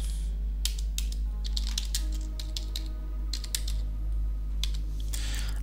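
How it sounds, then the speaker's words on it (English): Typing on a computer keyboard, irregular bursts of quick, close key clicks over a low steady hum, with no talking. "Type in your text."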